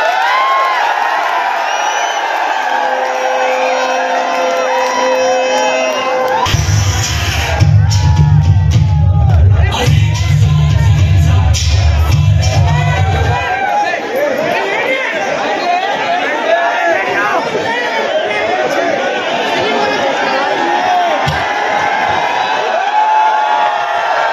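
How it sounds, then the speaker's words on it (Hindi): A large crowd at a Samajwadi Party rally in Malegaon chatters and cheers, a busy wash of voices with scattered shouts and whoops. A low drone swells through the middle. "भरपूर तालियों में"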